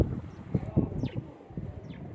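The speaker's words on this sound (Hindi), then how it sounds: "ये देखें जी माशाल्लाह ज़बरदस्त बहुत आला ये उड़ने वाले कबूतर हैं जी।" Lal Pari flying pigeons coo in low, throaty bursts on a rooftop loft, a few rolling calls close by with faint higher chirps and light wind behind them.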